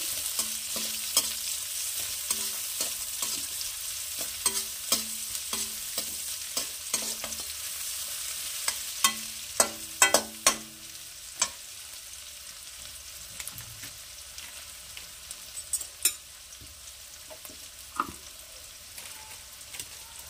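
Chopped onion frying in oil with panch phoron five-spice seeds, a steady sizzle under repeated scraping clicks of a spatula stirring the pan, close and continuous with no talk.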